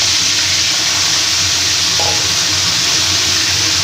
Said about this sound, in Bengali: আলু বেগুনটা একটু ভেজে নেব